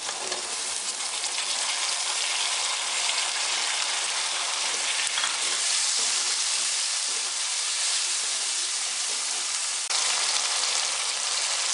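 Chopped red tomatoes fry in hot oil for potato pulao, giving a steady, dense sizzle that stays even throughout, close and fairly loud, with no voices.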